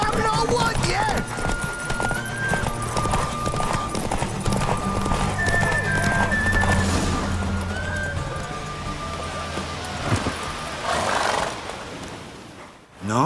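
Horse hooves clip-clop at a steady gallop with several whinnies and neighs during a race in The Witcher 3 game, loud and continuous, with faint game voices underneath.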